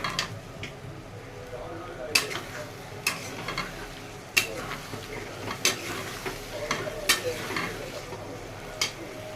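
Mutton pieces stir-fry in spiced oil for mutton kosha, a steady sizzle broken by sharp scraping and clacking as a spatula stirs the pan at irregular intervals, close and fairly loud.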